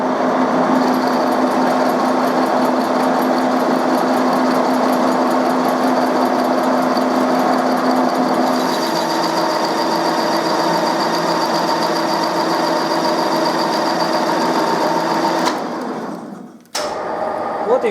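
A machine runs on vertical feed during a meat-slicing job, giving a loud, steady whine with a continuous mechanical drone for about fifteen seconds before it cuts out abruptly, followed by a brief final burst.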